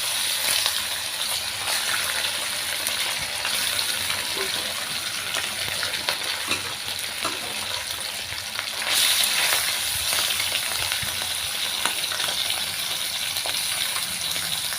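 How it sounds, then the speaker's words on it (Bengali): Small fish frying in hot oil in a pan for a spinach and small-fish dish, a steady close hiss and crackle running throughout with no talking. "আমার তেলটা গরম হয়ে গেছে, এবার মাছগুলোকে আমি ভালো করে ভেজে নেব।"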